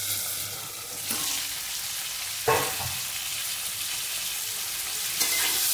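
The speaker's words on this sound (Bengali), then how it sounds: "চট জলদি ভাজাও হয়ে যাচ্ছে। বন্ধুরা, এরকমভাবেই আপনারা ফুলকপিটা ফ্রাই করবেন।" Cauliflower fries in a pan, a continuous close sizzling hiss with a couple of louder bursts of spattering as it is stirred, with no talking.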